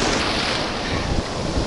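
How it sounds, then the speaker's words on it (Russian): Rushing sea surf and breaking waves close by at Olenivka, Crimea, mixed with gusty wind buffeting the microphone. "Посмотрите, какие волны."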